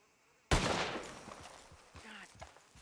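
One sudden loud gunshot in the video game Red Dead Redemption 2 cracks out after a near-silent moment, then rings into a long fading tail with a few faint thuds.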